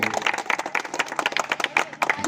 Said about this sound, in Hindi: एक बार राष्ट्रीय अध्यक्ष जी के लिए एक जोरदार शानदार ताली हो जाए